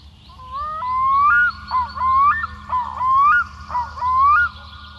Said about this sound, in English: if you wonder what a quikka sounds like, well, a Canadian would recognize the bird as a form of loon